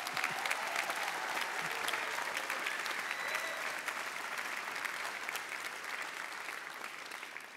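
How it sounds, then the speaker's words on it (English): Audience applause at a university graduation ceremony for nursing, midwifery and health graduates, a steady, dense wash of clapping from a large crowd lasting throughout, slightly fading toward the end. "So big round of applause again."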